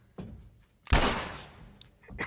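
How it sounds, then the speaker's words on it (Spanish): A single gunshot in The Last of Us, one sharp, loud blast that rings out and fades over about a second, framed by quieter game sounds before and after. "Mi primer disparo."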